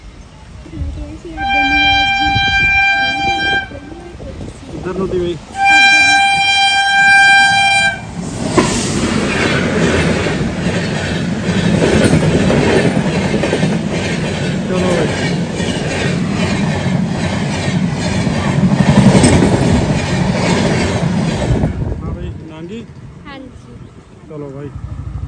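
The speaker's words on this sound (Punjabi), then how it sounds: "ਦੇਖ ਕੇ ਇਹਨੂੰ ਟ੍ਰੇਨ ਆਉਂਦੇ" A train passes close by, with horn-like tones at the start followed by a loud, steady wheel rumble and clatter lasting about fourteen seconds before fading. People talk over it.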